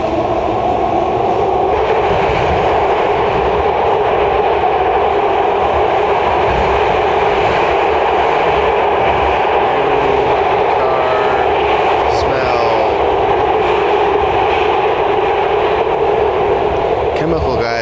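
Constant roar and rumble from inside a moving train, steady and loud throughout, with faint rattles and squeaks over the hum.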